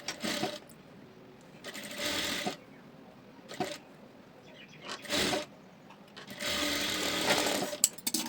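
A sewing machine runs in several short bursts and pauses, stitching lining onto a blouse piece, its motor whir close and moderately loud with quiet handling sounds between runs.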